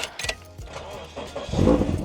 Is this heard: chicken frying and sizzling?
no